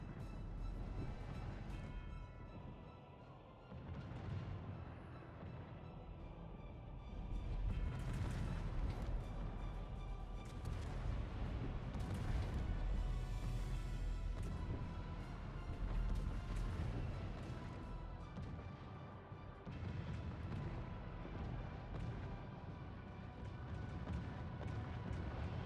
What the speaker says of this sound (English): Fire off those shells.